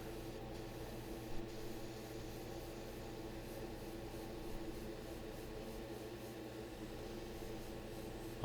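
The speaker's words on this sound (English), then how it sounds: "Make sure I spray the insides of the wheel too." Airbrush spraying metallic chrome paint onto a model car wheel, a steady soft hiss of atomized paint running continuously and close with no talk.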